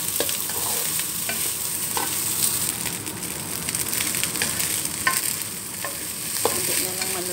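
Egg fried rice stir-fried in a hot pan, a steady crackling sizzle throughout with scattered sharp clicks of a utensil scraping and tossing the rice, close and fairly loud, no talking.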